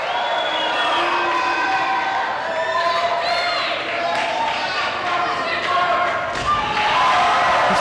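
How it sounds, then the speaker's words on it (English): A crowd at a pro wrestling show cheers and shouts loudly and without a break for several seconds, with a commentator talking over the noise. "acknowledging the cheers of the crowd."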